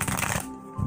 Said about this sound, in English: shuffle these a couple times